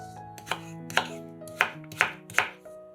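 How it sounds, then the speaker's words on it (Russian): Five crisp knife chops dicing potatoes into cubes on a cutting board, spaced about half a second apart, close and clear over soft background music. "Картошку тоже нарезаем кубиками."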